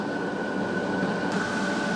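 A long train rolls steadily past at Cook on the Indian Pacific line, a continuous broadband rumble with a sustained whine running through it and no voices.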